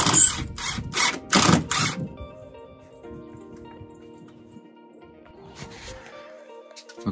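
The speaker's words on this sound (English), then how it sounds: "I am using 3-inch drywall screws." A power drill drives 3-inch drywall screws to mount a TV bracket, with a few loud bursts of whirring and grinding early on, then quieter faint rattles and clicks as the work settles.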